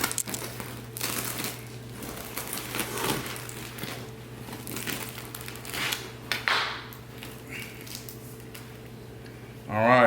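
A knife saws through the crispy crust of a homemade sourdough loaf, with scratchy, crackling strokes and crumbly crunches at close range over a low steady hum.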